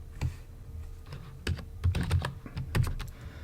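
Keystrokes on a computer keyboard entering a Linux terminal command, a run of crisp clicks in uneven bursts with short pauses between them, close and clear with no talking.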